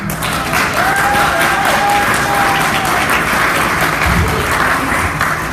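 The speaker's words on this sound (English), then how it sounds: "We really need to clap for Ron." Loud, dense applause from a community commemoration crowd, a steady sustained roar of many hands with a faint whistle-like tone drifting through.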